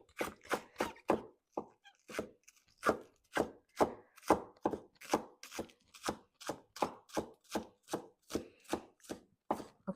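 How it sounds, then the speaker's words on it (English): Green onions are chopped with a knife on a board in a steady run of crisp, close blade taps, roughly two to three per second, with brief pauses between bursts. "I'm going to cut some ginger and also cut some green onions"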